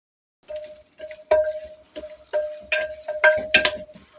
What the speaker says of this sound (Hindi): यहाँ मैं प्याज शामिल कर रही हूँ जो मैंने काट के रखी थी।